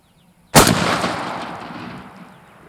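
Single loud shotgun blast firing Federal TSS shells at a 20-yard patterning target, a sharp broadband crack followed by a long, slowly fading outdoor rumble and echo, heard alone.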